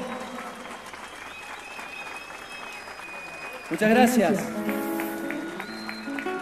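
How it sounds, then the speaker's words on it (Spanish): Audience applause at a song performance during a forest festival, rising in a dense burst over the tail of the music and continuing steadily while someone speaks briefly. "Fuerte el aplauso."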